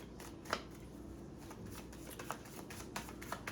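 Tarot cards are shuffled close up, a steady papery riffling with small snapping clicks repeating throughout, with no talking.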